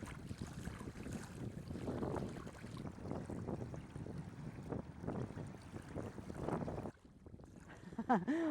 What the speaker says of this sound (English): the sun's hitting me in the face, the wind's blowing.